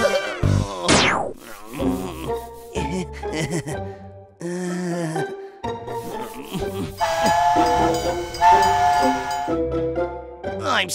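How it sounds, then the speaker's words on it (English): A cartoon train passes with a rising steam-whistle toot, chugging and hissing mixed with bright musical tones and effects, busy and continuous throughout. "I want to ride the train, too."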